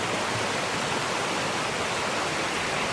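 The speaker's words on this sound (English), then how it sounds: "there's a creek down here regardless" Water flows in a creek at a camping spot, producing a steady, dense rushing hiss that stays close and constant throughout, with no voices.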